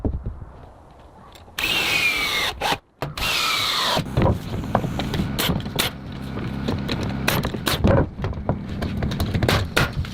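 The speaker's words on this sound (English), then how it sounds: "Using a power nailer, every board is fastened with precision" Wooden boards being fastened on a log cabin with a power nailer, with sharp repeated bangs and clattering woodwork knocks at close range over a busy, uneven background of tool and handling noise.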